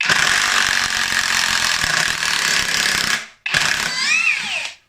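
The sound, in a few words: brushless 18V impact driver unscrewing screws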